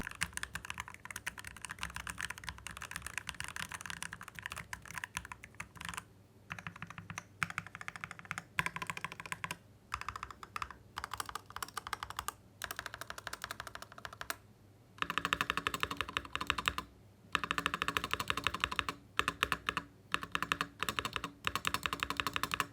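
Continuous close-up typing on an Asus ROG Strix Scope II 96 Wireless mechanical keyboard with lubricated stabilizers and doubleshot PBT keycaps, rapid clacky keystrokes with brief pauses, running for over twenty seconds with no voices.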